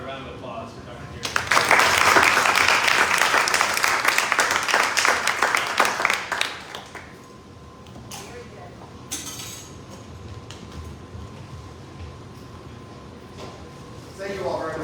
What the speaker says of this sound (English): What about a round of applause for Dr. Jerrid?